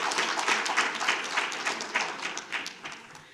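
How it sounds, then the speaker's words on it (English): Steady applause from a crowd at a school district board meeting, dense clapping that holds for a few seconds and gently tapers off toward the end. "Let's give them a huge round of applause so you all can come forward."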